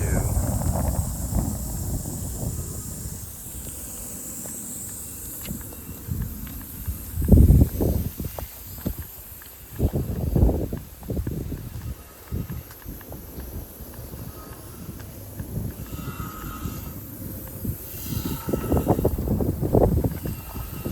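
Low, blustery wind noise buffeting the microphone throughout, rising in gusty surges, with faint rustling and a few scattered voices in the background.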